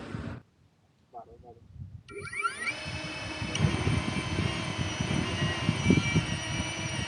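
DJI Avata FPV drone motors spinning up for a hand-held takeoff, a dense whirring buzz that rises from silence and holds steady and loud at close range, with rising whine tones.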